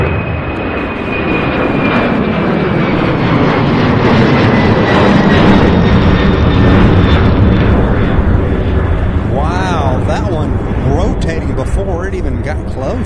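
An airliner at Louisville International Airport roars loudly through its takeoff run and early rotation, a powerful sustained engine thunder with a falling whine, heard close and continuous throughout.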